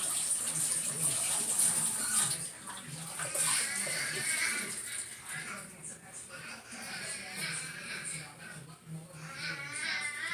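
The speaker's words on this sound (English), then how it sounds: "let me wash my hands" Hands are washed under a running kitchen tap, a steady hiss and splash of water that is fairly faint and continuous, with a person talking over it.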